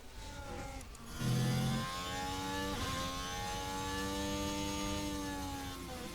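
A racing car engine in an F1 video game runs a qualifying lap at the Austrian Grand Prix, a fairly quiet, whining tone that climbs and drops in pitch through gear changes.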